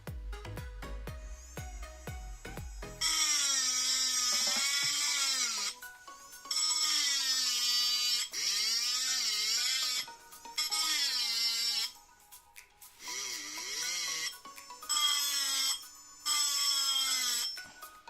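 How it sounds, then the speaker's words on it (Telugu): A small electric engraving pen etches lettering into a steel bowl, giving a loud, high, buzzing whine in repeated bursts whose pitch bends and wavers between short pauses. "ఇప్పుడు డ్రిల్ మెషిన్లా సౌండ్ వస్తుంది"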